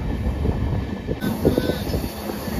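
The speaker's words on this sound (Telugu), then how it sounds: "ఇక్కడ నుండి ట్రైన్ అటు ఇటు తిరుగుతూనే ఉంది" A passenger train on the Vizag to Araku line rumbles steadily through a hilly valley, a continuous low rolling and clatter of wheels and carriages with wind buffeting close by.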